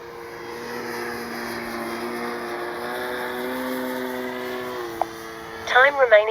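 A Great Planes Ryan STA radio-controlled model airplane flies on its maiden flight, its engine giving a steady droning whine at moderate distance, followed near the end by a short burst of louder noise.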